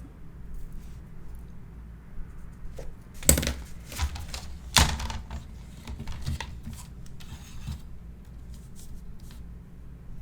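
Scissors cutting paper for a mini album in a craft session, with a couple of sharp snips standing out over quiet rustling and handling noise, close and fairly soft.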